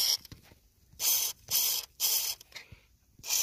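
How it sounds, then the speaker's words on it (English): Grease sprayed from an aerosol can onto the power steering box of a 2005 Dodge Power Wagon: four short, close hissing bursts separated by brief pauses, with no talking. "I want to give that a good little squirt of grease"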